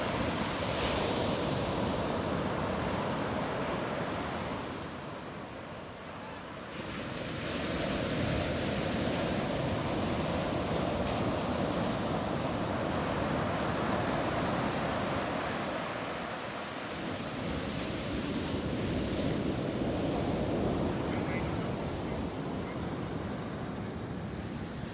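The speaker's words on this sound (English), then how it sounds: "There's a little bit of swell on a shore break, so that's gonna be a little bit of a challenge." Waves breaking on a beach shore break with a small swell, a steady broadband wash of surf that swells and recedes in slow surges, with some wind buffeting the microphone and no talking.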